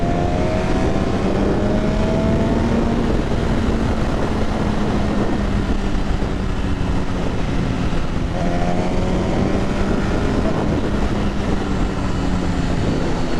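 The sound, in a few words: MV Agusta F4R motorcycle riding through corners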